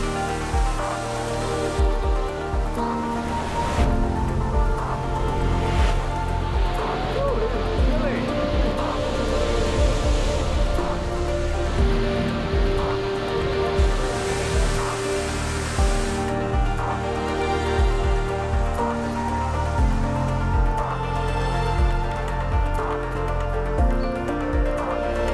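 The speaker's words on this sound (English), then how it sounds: "And we made it to the falls." Waterfall near Sinaia, Romania, a continuous close roar of rushing, splashing water that stays loud and steady throughout, with music or voices faintly mixed underneath.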